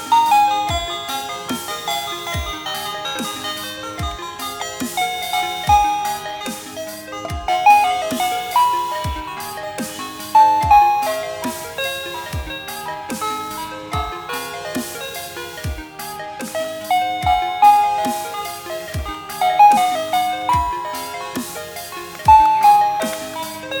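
A budget smart wireless doorbell plays a bright electronic chime melody, repeating steadily with a regular pulsing beat and no talking.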